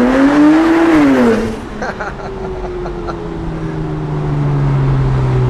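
A Gemballa Avalanche 650 Roadster GTR EVO-R's engine drops sharply through quick PDK gear shifts, exhaust crackling and burbling close by before settling into a steady drone.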